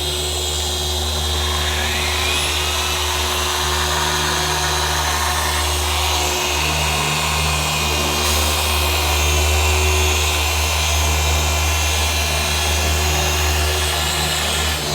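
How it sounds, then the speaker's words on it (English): A polisher runs without a break during paint correction on a car in very poor condition, giving a loud, close, steady mechanical whir with slight shifts in tone as it works across the panel. "Polisher."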